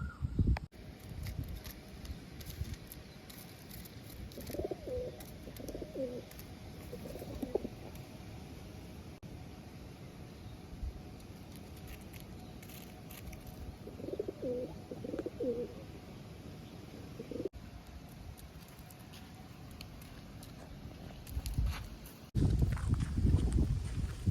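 Pigeons with their chicks in a loft, soft cooing in a few short clusters over a steady background hum and scattered shuffling, with a louder rustle near the end.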